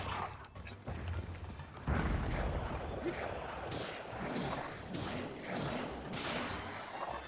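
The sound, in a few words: shooting at an enemy in Tears of the Kingdom video game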